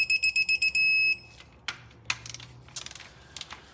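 A quick series of about eight sharp electronic beeps from a torque wrench comes during a project car build, followed by scattered clicks and metallic clatter in a quiet garage.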